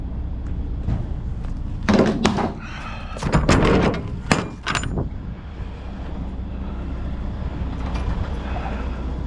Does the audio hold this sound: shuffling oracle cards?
no